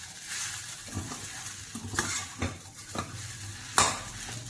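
Sago khichdi is stirred in a pan under a steady low sizzle, with repeated scraping strokes and spoon knocks at an uneven pace and one sharper clank near the end. No one speaks.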